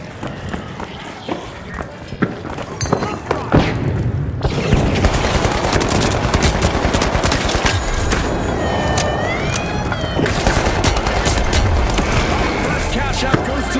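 A deployed turret firing in The Finals, rapid automatic gunfire mixed with explosions and footsteps in a busy, loud match, with a voice speaking over it.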